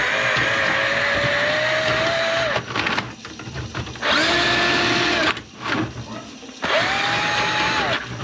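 Motorized drain snake cable spinning in a clogged bathroom sink drain, a steady whining motor drone in three long bursts separated by short pauses filled with rattling and clanking of the cable, loud and close.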